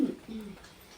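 Pigeons cooing nearby, a short soft low coo that fades quickly into quiet background.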